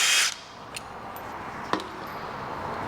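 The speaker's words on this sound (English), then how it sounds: "we use a little bit smaller impact" A small impact driver with an 8mm bit spins off 6mm fasteners on the bottom end of a Vespa 150 3V Primavera/Sprint engine: one short, loud whirring burst at the start, then a faint click and a quiet workshop.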